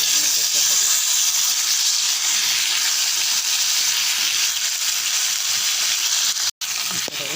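Diced potatoes dropped into hot oil already crackling with mustard seeds, urad dal and cumin, giving a steady loud sizzle and hiss for the whole stretch, with a brief stir clatter near the end.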